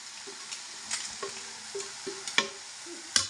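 Coconut chili powder dropped into hot oil for an egg fry sizzles quietly while a spatula scrapes and taps the pan in irregular knocks, a brisk stir-fry clatter close up without speech.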